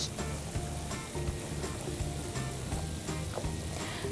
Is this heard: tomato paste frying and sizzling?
yes